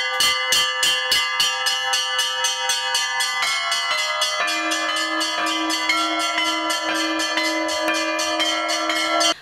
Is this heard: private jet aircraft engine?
no